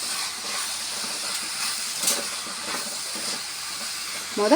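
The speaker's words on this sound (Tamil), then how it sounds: "இது மூணையும் நல்லா வெங்காயம் தக்காளி கூட நல்லா வதக்கிட்டு" Onion, tomato and capsicum sautéing in a pan, a steady close hiss of sizzling vegetables with faint scattered crackles throughout.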